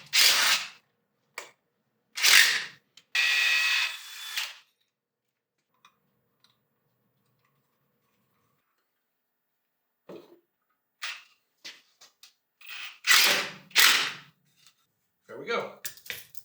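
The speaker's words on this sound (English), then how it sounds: "So we're going to take this impact driver, which makes it easier." Impact driver driving a screw to mount a shelf, giving several short loud bursts of whirring and rattling hammering separated by silence, close by, with talk in between.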